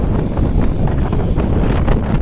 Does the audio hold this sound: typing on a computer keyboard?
no